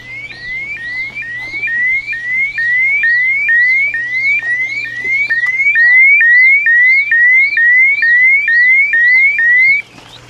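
A loud electronic pool alarm wails in rapid repeating rising sweeps, steady and continuous for about ten seconds before cutting off abruptly.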